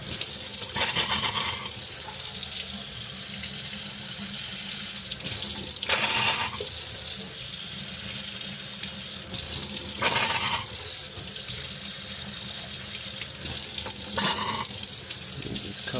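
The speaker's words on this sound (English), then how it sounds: "make sure that water is flowing" Steady, loud water running from a tap into a sink during maintenance on a newer-style Trane furnace, a continuous rushing flow with slight surges, heard alone without voices.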